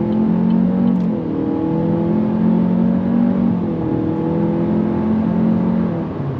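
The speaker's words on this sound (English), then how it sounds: "On throttle, here we go." A 2025 Chevrolet Malibu mid-size sedan accelerating under throttle, with an engine drone that rises in pitch, drops briefly at a shift, and climbs again, heard close and loud from inside the cabin.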